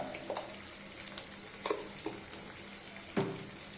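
Spices frying in hot oil in a pan, a steady bright sizzle with a few louder spatters and stirring scrapes, close up and with no talking.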